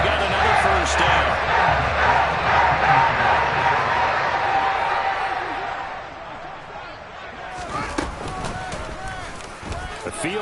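Stadium crowd noise from a Madden 23 NFL football game, Bears versus Bills, a steady loud roar of cheering that swells and then thins out, heard under a play-by-play commentator's voice.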